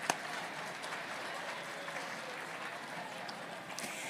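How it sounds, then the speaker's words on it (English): Audience at the 9th annual Winter Splendor fundraiser at the Blair County Convention Center applauding Chef Tom Schilling and staff: steady, dense clapping from a large crowd, sustained at an even level throughout. "Let's give a big round of applause for Chef Tom Schilling"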